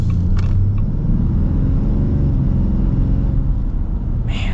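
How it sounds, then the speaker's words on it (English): A 2025 Ram 3500 Big Horn diesel pickup's big engine pulling with a deep, steady, loud rumble and smooth drone, a brief whoosh near the start and another near the end, no voices. "that's what I expect from a big diesel like this"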